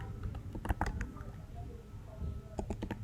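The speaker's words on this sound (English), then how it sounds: "you start typing" Fingers tap on a laptop keyboard in short irregular bursts of crisp clicks, close and fairly quiet, with a brief pause in the middle.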